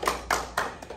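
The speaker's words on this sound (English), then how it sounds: "So a round of applause for her for that." Audience applause at a board-of-directors recognition moment, heard as a few sparse, separated bursts of clapping rather than a sustained ovation, fairly faint.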